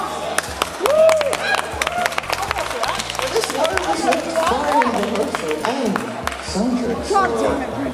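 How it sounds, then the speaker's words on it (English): Crowd clapping and cheering at the UKPC 2019 convention, dense claps mixed with loud chatter and voices talking over the noise throughout. "Applause for the Jaeger box!"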